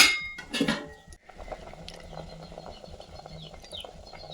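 A loud clatter at the start, then steady soft scraping and light metallic clinks of a utensil stirring dosa batter in a pan, with low background hum.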